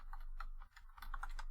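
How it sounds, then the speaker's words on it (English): Rapid typing on a computer keyboard on a Debian machine, a close run of light key clicks with a short pause in the middle, no talking. "I wasn't watching what I was typing."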